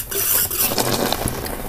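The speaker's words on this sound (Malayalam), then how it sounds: "അതുപോലെ നന്നായിട്ട് ഇളക്കി കൊടുക്കുക" Boiling fenugreek lehyam with palm jaggery is stirred in a pot, giving close scraping and bubbling sounds with light clinks of a spoon against the vessel over a short stretch.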